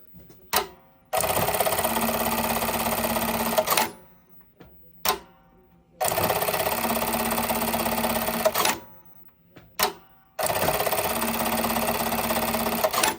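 Brother KE-430HS-05 heavy-weight industrial bartack sewing machine stitching in three loud, dense bursts of a few seconds each, separated by brief quiet pauses and mechanical clicks.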